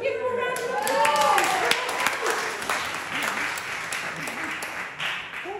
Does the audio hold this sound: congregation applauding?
yes